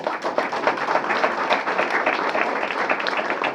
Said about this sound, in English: A round of applause, please, for Tracy.